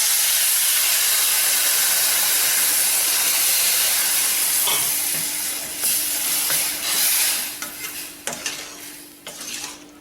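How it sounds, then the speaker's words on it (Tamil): Tamarind water pours into a hot oiled pan for orange peel pachadi, setting off a loud, steady hissing sizzle that slowly settles and breaks into lighter crackles and stirring clatter. "இப்போ புளிக்கரைசல் தண்ணியை ஊற்றிடுவோம்."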